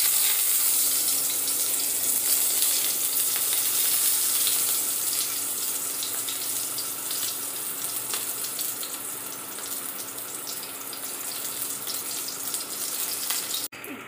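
Eggplant slices fry in hot oil with a steady, close sizzling hiss that holds evenly throughout, with no talking.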